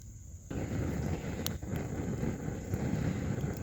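Strong wind buffets a small outdoor campfire where charcloth is being made, a sudden rush of loud, rumbling gusts that holds steady and close after a brief quieter moment.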